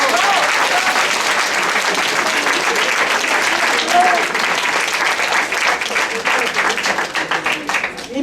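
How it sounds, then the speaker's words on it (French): Theatre audience applauding cast members of a stage production of Les Belles-sœurs; loud, dense clapping holds steady, then thins and becomes more scattered toward the end. "On les applaudit."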